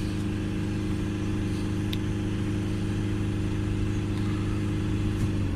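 Diesel car engine held at a steady high idle of about 3000 RPM, a continuous even drone with a low harmonic hum, close and constant throughout with no talking.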